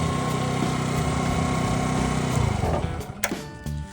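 A small Icebear Maddog Chunkis Gen 1 motorbike engine idles close by with a steady buzzing putter, then revs briefly and sputters toward the end.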